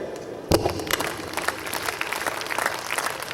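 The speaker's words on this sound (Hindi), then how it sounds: "अब ताली जैसे मैं बजाता हूं वैसे बजाइएगा।" After a quiet start, a sudden sharp clap sets off a crowd's dense applause at a Hindi-language gathering, continuing as a busy, even patter of many hands to the end.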